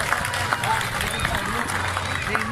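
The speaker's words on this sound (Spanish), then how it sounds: "Fuerte el aplauso para los campeones, Ariel Béjar y Gonzalo Escobar." Applause for the doubles champions, Ariel Béjar and Gonzalo Escobar, at the Challenger Guayaquil tennis tournament: steady, dense crowd clapping that carries on throughout at moderate loudness, with a voice on the public address over it.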